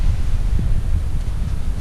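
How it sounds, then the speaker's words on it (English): Strong wind at Saltwick Bay, Yorkshire, buffets the microphone in low, gusty rumbles, a steady blustery roar with no voices. "it's really getting windy outside now"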